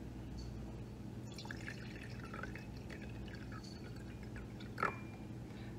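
Water is poured onto sugar in a measuring cup while making simple syrup, a quiet trickling and dripping stream with small splashes and a brief clink near the end.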